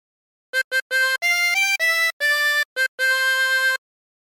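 A 24-hole tremolo harmonica plays the LWIAY theme phrase as a short run of bright, wavering notes, some clipped and some held, alone against silence.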